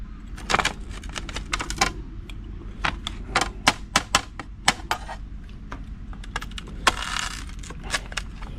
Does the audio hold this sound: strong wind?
no